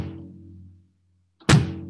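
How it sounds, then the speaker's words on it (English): A drum kit is played: a resonant tom-like tone rings out and decays, then after a short silence a single sharp, loud drum hit lands. "Instead of getting drum sounds like this"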